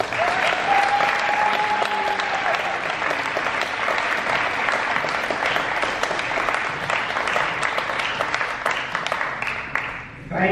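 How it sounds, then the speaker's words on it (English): An audience at a convention gives a long, loud round of applause, many hands clapping in a steady dense wash that fades slightly near the end, with faint voices underneath. "Please give him a round of applause."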